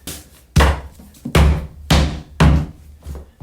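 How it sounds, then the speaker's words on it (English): A hammer strikes hardwood flooring boards in heavy, evenly spaced blows, four loud thuds about half a second apart, close by, with quiet pauses between. "I almost prefer to use this side because I can bang them in a lot faster."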